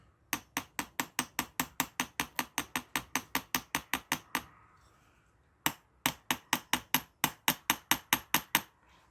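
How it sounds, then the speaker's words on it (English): A small toffee hammer taps sharply and evenly on pins in a carburettor assembly, a long run of quick metallic knocks, a brief pause, then another steady series of close taps. "I use my little toffee hammer."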